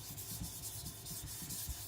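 Gyuto knife rubbed on a Naniwa Professional 1000 whetstone, quiet rhythmic gritty scraping strokes repeating back and forth at close range, with no voice.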